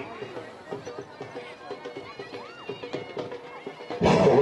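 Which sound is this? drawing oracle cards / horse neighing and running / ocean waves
horse neighing and running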